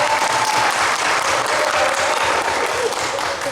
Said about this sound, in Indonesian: Yuk kita tepuk tangan yang mulia.